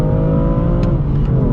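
A modified 450-horsepower BMW M2 engine revs under throttle, a loud steady growl with rising harmonics, close by and continuous.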